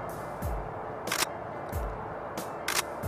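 A DSLR camera shutter fires four separate times at 1/30 second, each a crisp, close mechanical snap with a brief whirring return. The shots come at uneven intervals under a dim evening sky, with no voices heard.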